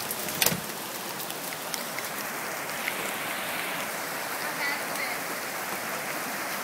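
Floodwater rushes past an apartment building during the 2012 Duluth flood, a constant, fairly faint wash of flowing water with a sharp knock near the start and small splashes scattered throughout.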